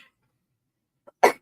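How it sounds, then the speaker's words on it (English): A single sharp cough comes close to the microphone after near silence, preceded by a tiny catch of breath. "Hopefully this cough will be gone"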